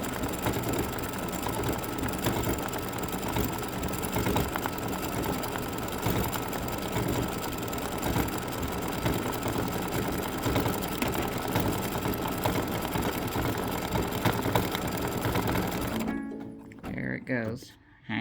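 A Solaris embroidery machine stitches free-standing lace in a long, continuous mechanical whir with a steady needle rhythm, running almost eighteen seconds before halting, with a voice audible alongside.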